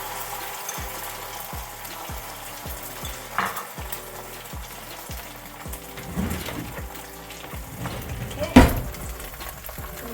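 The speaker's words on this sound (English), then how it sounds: "Turn the heat down to about 4 and gently put the egg into it." An egg fries gently in a pan on lowered heat, giving a soft sizzle with a run of evenly spaced clicks early on and occasional clatter of the pan later.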